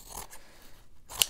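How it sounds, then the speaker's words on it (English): Scissors trimming Amazon packaging for a junk journal make two quick, crisp snips, close and faint, with no one talking. "I'm just going to trim"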